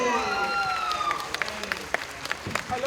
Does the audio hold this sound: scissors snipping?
no